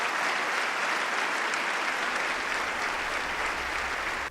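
Sustained, dense applause from a large audience in the House chamber during the 2015 State of the Union address, loud and steady throughout with no voices over it.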